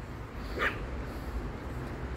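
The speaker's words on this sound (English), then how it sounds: "Who are you barking at?" A single short, faint dog yip or bark sounds once in the distance against quiet outdoor background noise.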